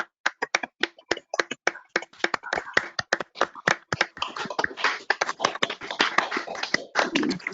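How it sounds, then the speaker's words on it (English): Online audience clapping through separate microphones at the end of an academic talk, sharp, uneven individual claps overlapping into a thin, ragged round of applause. "if everyone can sort of somehow approximate a round of applause"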